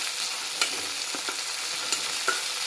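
Boiled black chickpeas are stirred into onions frying in a pan, giving a continuous bright sizzle broken by a handful of quick scraping stirs, close up and with no talk.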